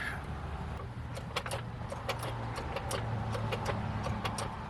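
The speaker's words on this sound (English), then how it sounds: "So I'm jacking the motor up" A jack ratchets up an electric DC motor being fitted into a VW camper during an EV conversion, giving a string of sharp, irregular clicks and taps over a low steady hum.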